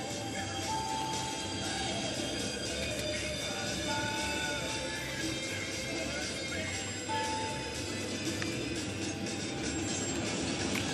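A CN mixed freight train rumbles past a road crossing, a continuous loud roar of wheels and cars with faint squeals and clatter throughout; voices talk faintly over it.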